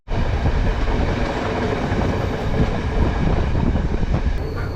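A passenger train travels on a Sri Lankan line between Jaffna and Vavuniya, giving a loud, steady rolling rumble of wheels on rails that starts abruptly and holds constant throughout, with no voices.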